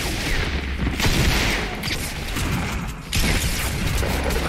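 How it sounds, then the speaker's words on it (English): Grenade blasts and gunfire in a shooter video game, a steady dense rumble of booms and shots running throughout without voices. "They're throwing grenades."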